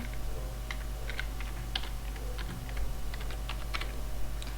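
Password keys are tapped on a computer keyboard in quick, irregular clicks, close and clear over a steady low room hum, with no talking.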